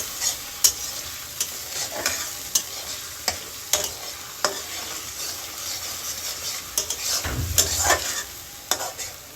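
Chicken meat cooking in a pan with salt and no added water, stirred with a spatula that strikes the pan in steady, sharp ticks over a continuous soft sizzle, close up with no talking.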